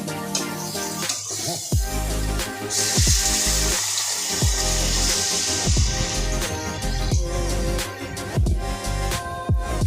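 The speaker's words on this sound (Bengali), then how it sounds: "জল ঢেলে দেবো।" Water pours into a curry of Katla fish in a pan, a splashing, gushing stream with repeated bursts and clatters of utensils, close and moderately loud, no speech.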